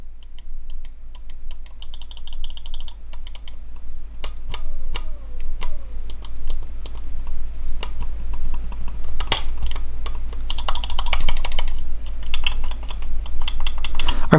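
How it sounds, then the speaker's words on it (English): Sharp Logitech MX Anywhere 3 mouse button clicks, single and in quick pairs, scattered over a faint steady hum, close and crisp. "It's just a normal mouse click"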